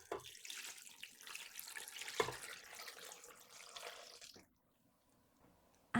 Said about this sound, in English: Then about 1 litre of water.